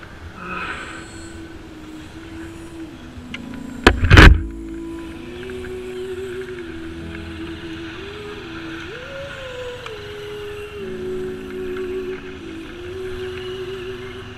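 Motorcycles ridden on a road trip to Shamirpet Lake, a steady engine drone with wind rush throughout and one sharp loud burst near the start, no talking.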